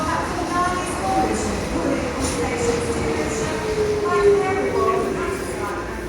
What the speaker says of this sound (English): Here comes the DLR